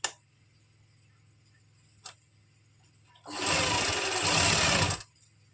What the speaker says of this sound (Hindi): इसको हम डबल स्टिच कर लेंगे।